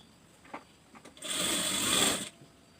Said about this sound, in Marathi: हे असं आपण शिवून घ्यायचं आहे